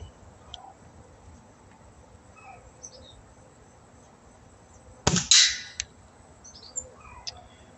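An Umarex Ruger Mark IV pellet pistol firing a Daisy pellet: a single sharp, close crack midway through, preceded and followed by quiet outdoor ambience with faint bird chirps.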